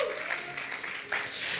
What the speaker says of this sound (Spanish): Le damos un fuerte aplauso al Señor Jesucristo.